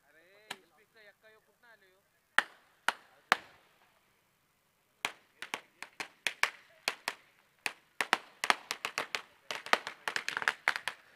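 Firecrackers burst during a guest's arrival at a local cricket match, first a few sharp isolated cracks and then a rapid, irregular string of loud pops. A tonal whistle sounds at the start.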